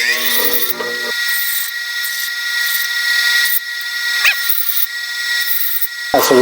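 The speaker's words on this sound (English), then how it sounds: "we're going to try taking the burrs off in the grinder here" A grinder removes burrs from a metal e-brake lever extension for a Toyota 4WD truck, giving a loud, sustained high-pitched whine in several bursts with short pauses between them.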